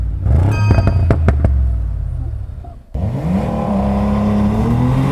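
A Brabus V8 turbo car engine revs hard and close, with sharp throttle blips, a brief dip, then a sustained rising roar.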